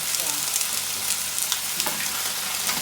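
Mussels cook in a hot pan with a steady, fairly close sizzle and a few short stirring or spattering bursts. Faint speech may be heard in the background.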